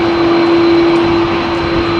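A heavy jet airliner departs runway 27R at London Heathrow, producing a loud, continuous engine roar with a steady whining tone that holds throughout.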